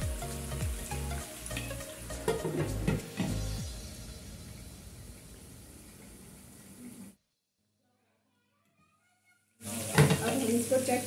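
Chicken frying in oil in a karahi for Shinwari chicken karahi, a steady close sizzle with stirring scrapes under a speaking voice, dropping to silence briefly before the sizzle returns.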